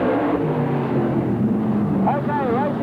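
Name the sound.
sprintcars racing at Parramatta City Raceway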